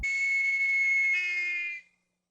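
A single shrill whistle blast sounds loud and close, holding a steady piercing tone for nearly two seconds before cutting off into silence.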